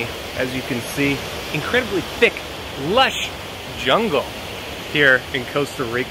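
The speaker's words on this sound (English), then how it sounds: "I don't know if you can hear me that well with the raging river behind me." A raging river rushes through thick Costa Rican rainforest as a steady broadband roar, nearby and constant, beneath someone talking throughout.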